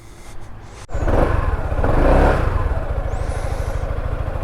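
A large touring motorcycle with a big windshield revs loudly up close on a road in Spain, a sharp blip followed by a sustained, steady engine roar that holds through to the end.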